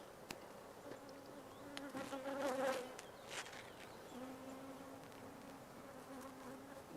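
Honey bees hum and buzz close by around a queen being introduced to a hive, a steady soft drone with a few louder swells and no talking.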